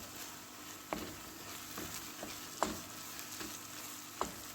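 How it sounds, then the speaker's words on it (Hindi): Beef brain (magaz) frying with green chillies in a pan, a steady soft sizzle with a few sharp clicks of a spoon against the pan at intervals; no talking. "सब्ज़ मिर्च डालने के बाद 2-3 मिनट इसको भूनेंगे"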